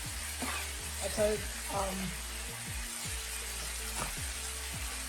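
Garlic sizzling in a pan alongside browning hamburger meat for a keto taco casserole, a steady close hiss with intermittent scraping and clanking of a utensil, no talking.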